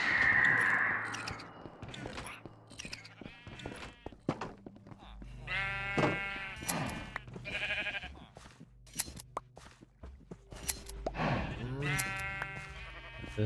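Sheep bleat repeatedly in a video game, several harmonic calls near and loud amid game sounds and background noise, with some overlapping bleats toward the end.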